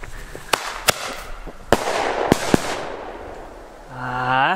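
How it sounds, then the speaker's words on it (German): Several sharp firecracker bangs from a Weko Flashbang and other fireworks set off outdoors, five or six loud cracks spaced irregularly over a few seconds, followed by a voice at the end. "Den mach ich mal auf dem Boden. Und den Flashbang normal."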